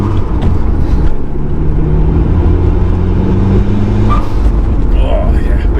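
Turbocharged engine of a 518bhp Mitsubishi Evo 5 spooling up from close by, a rising mechanical whine and rumble with a person talking over it.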